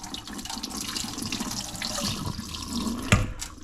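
Water sloshes as uncooked rice is swirled and rinsed in a pot, a continuous close swishing with a brief louder splash near the end.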